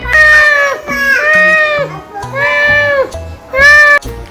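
A cat gives four drawn-out, whiny meows in a row, loud and close, each rising and falling in pitch, over a light, bouncy music backing.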